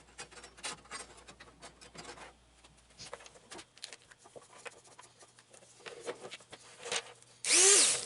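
A handheld power tool grinds the teeth of a bandsaw blade in short, intermittent bursts of whirring and rasping, ending with a louder, sustained burst up close.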